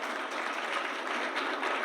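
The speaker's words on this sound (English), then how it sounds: "Applaud yourselves, yeah." Audience at a museum evening talk applauding: a steady, dense wash of clapping from many hands, moderately distant and even throughout, with no voices over it.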